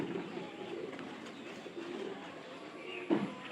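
Pigeons coo softly and steadily in a loft during the flood season, low rounded calls repeating under a faint background hiss, with one brief louder note near the end.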